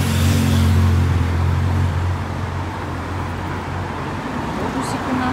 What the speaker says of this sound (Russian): Автобусики наши ездят.